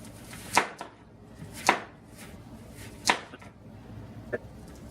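A knife chopping through hard raw carrots on a cutting board: four sharp, separate cuts spaced about a second apart, each followed by a lighter knock, close and distinct in a quiet kitchen.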